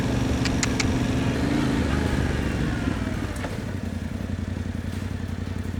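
A 2025 Yamaha Tenere 700 being ridden, its engine droning steadily and close with some clattering thumps from the terrain, no talk over it.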